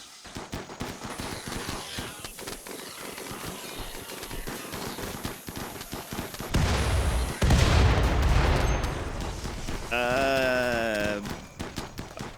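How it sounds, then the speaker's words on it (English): Mortar shells exploding in the Rimworld video game: dense, rapid crackling bursts of gunfire and blasts, then a louder rumbling explosion and a rising tonal effect near the end. "I think the mortar shells just went off."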